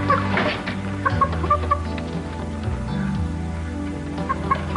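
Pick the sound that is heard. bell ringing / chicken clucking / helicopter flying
chicken clucking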